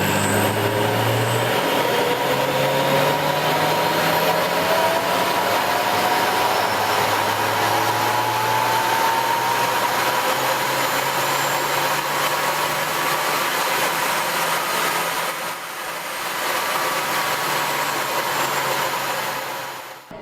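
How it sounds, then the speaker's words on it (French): A hydrogen fuel cell for a motorboat runs steadily while air is blown through it, a loud continuous whooshing hum with faint rising whine, alone throughout and dipping briefly near the end. "on va écouter un peu justement pour la première fois le bruit d'une pile à combustible"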